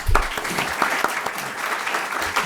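Audience applause welcoming a visiting ambassador at a university lecture, a brief, steady spatter of many hands clapping at moderate loudness, with no talk over it.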